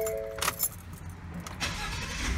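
A Ford F-150 EcoBoost truck engine cranks briefly, then catches and settles into a steady low idle rumble, with a light jingle of keys near the start.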